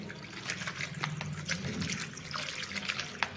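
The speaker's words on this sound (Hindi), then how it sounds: "तो इधर बेसिन में धोएंगे हम इसको, और नॉर्मल इसमें पानी डाल देंगे।" Water pours and trickles into a basin to wash an aquarium sponge air filter, a steady, fairly quiet splashing flow with no talk.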